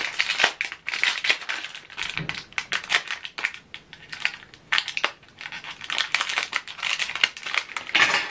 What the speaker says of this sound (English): Once you push it, you hear a click sound